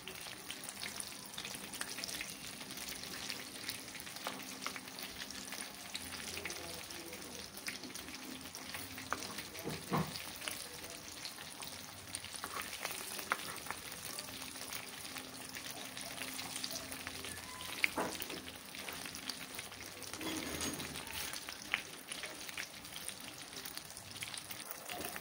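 Vegetable lumpia frying in a pan, a steady, dense sizzle of hot oil with crackling pops running throughout, close and unbroken, with no talking.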